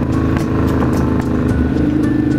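A Honda Shadow 600 motorcycle rides through the city streets of Curitiba, its loud, steady engine drone constant and near, with brief wind flutters and no talk.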